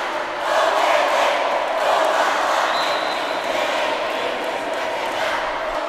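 A crowd of fans roars and cheers at a university sports final, a loud sustained swell of many voices that rises early and stays strong for several seconds before easing slightly.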